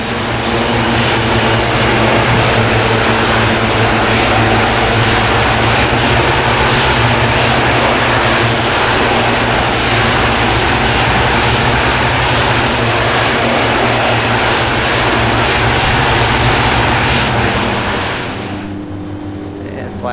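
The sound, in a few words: Twin Otter seaplane engine in Aerosoft flight simulator game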